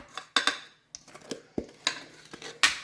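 Chocolate chips being mixed into brownie batter, with a series of close scraping and clinking strokes of a utensil against the bowl in an irregular rhythm, with no talk.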